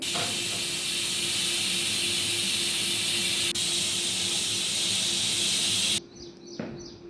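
A loud, steady steam hiss rushes from a pressure cooker on high flame, cooking goat head curry, for about six seconds, then cuts off abruptly, leaving quieter room sounds.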